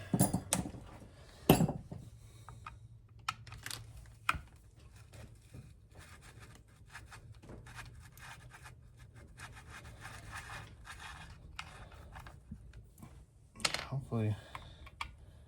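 Metal clicks and clinks come from Allen keys working the side cover off a Husqvarna 55 chainsaw, scattered and fairly close, with sharper knocks near the start and end.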